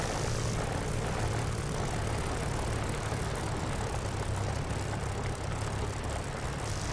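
Propeller aircraft engine drone in the DCS flight simulator game around a landing, a loud, steady, continuous hum holding throughout without breaks.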